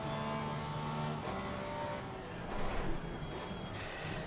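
Race car engine in Assetto Corsa Competizione, running steadily with sustained harmonic drone and revs rising and falling as the throttle is blipped on downshifts, loud and continuous with no talking.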